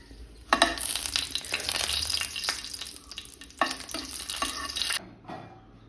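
Mustard seeds and dried chillies fry in hot oil and are stirred, giving a loud, close, bright crackling sizzle with scraping strokes that cuts off abruptly near the end.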